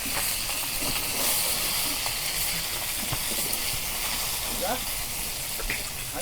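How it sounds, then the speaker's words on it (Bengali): Pangas fish fries in oil with a loud, continuous hissing sizzle, broad and steady, with small crackles and a few faint clinks throughout. "মাছ ভাজা হচ্ছে"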